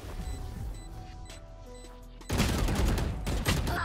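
A rapid burst of gunfire erupts midway through, fired at a wire in a tactical shooter game, dense and loud after a quieter stretch of faint ticking game sounds.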